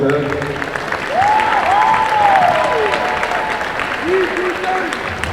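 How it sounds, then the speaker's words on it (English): Crowd applause for officers in a school gym during a North Quincy vs Quincy boys basketball game, a steady roar that swells and holds throughout, with a voice talking over it. "Can we please give a round of applause to all these officers there?"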